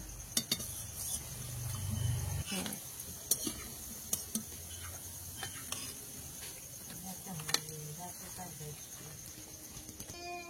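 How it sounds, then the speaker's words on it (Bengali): Fried onion fritters are lifted out of hot oil, a soft sizzle running beneath sharp clinks and scrapes of a utensil against the pan, with insects chirping in the background. "পেঁয়াজিগুলো ভাজা হয়ে গেছে, আর এবার তুলে নেব।"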